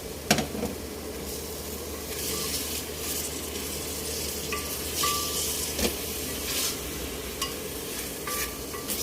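Garlic, onion and ginger sautéing in a pan, a steady close sizzle with recurring scraping and clacking stirring strokes throughout.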